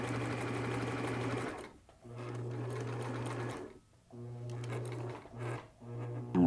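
A sewing machine stitches a cap seam in bursts, its loud mechanical hum starting and stopping several times with short pauses between runs.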